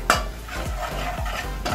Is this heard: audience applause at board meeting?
no